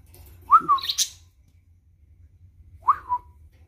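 A pet parakeet indoors gives two short, bright chirps, the first a quick warbled run of notes and the second a single whistled call a couple of seconds later, both close over a faint low hum.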